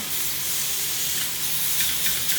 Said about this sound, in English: So my griddle pan is really hot, and now we put the meat on it.